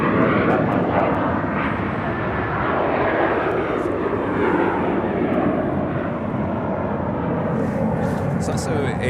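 A Sun Country Airlines Boeing 737-800 taxis toward Taxiway Alpha at LAX, its engines a loud, steady rumbling roar that swells gently, with brief clicks and faint voice-like bursts mixed in.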